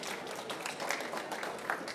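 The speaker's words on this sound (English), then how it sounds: "Another round of applause." Audience applause at a COP29 panel on carbon farming, a steady broadband patter of many hands clapping throughout, moderately loud with no voices over it.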